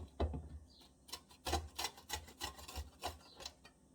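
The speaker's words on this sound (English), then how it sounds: "So I'm gonna grate." Garlic or onion is grated for a Coca-Cola chicken wing sauce, making close, quiet rasping strokes in an irregular rhythm with no talking.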